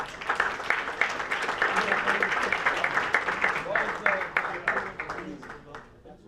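A banquet audience at an athletic awards event applauds an athlete with sustained, fairly loud clapping from many hands that slowly tapers off near the end.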